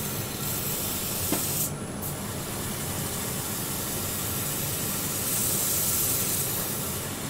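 Black aerosol spray paint hissing from a can in a steady continuous spray, close and fairly loud, with a brief pause and no talk.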